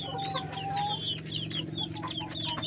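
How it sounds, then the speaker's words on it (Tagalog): Native Bisaya chickens clucking steadily and close by in a farmyard, with overlapping calls and a few higher squawks over a continuous low hum of other fowl. "Saka ito naman po yung mga manok na mga Bisaya po na tinatawag dito sa amin."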